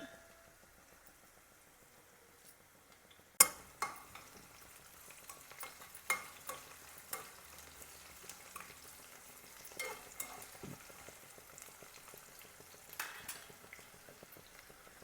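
Vegetables fry in oil in a pan, a low, steady sizzle broken by sharp, close spoon-stirring knocks and scrapes that repeat every second or so.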